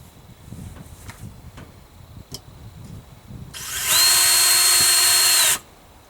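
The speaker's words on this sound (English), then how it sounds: "So I'm going to do some pilot holes." After a few seconds of quiet shuffling and light taps, a power drill drilling pilot holes on a pontoon boat whirs loudly and steadily for about two seconds, then stops abruptly.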